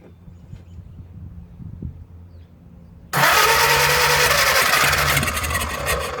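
A 1937 Willys flathead engine, left sitting in the woods for over 25 years, cranks and catches with a sudden loud roar, then runs steadily and rough after a few quiet seconds of low rumble beforehand.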